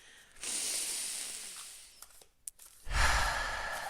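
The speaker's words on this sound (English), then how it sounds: "take a deep breath" A long, deep breath taken close by, a breathy inhale rushing for about a second and a half, a short pause with faint clicks, then a louder hissing exhale.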